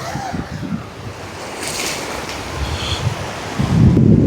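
Sea waves wash against the shore by a seaside house at early morning, with gusting wind buffeting the microphone; the surf swells louder near the end, and no one speaks.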